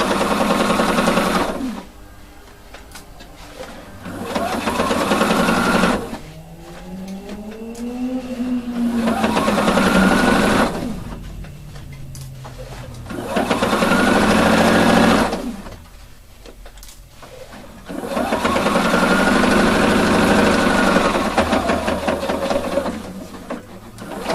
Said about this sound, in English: sew a piece, stretch it, sew a piece, and again and again and again, all the way around.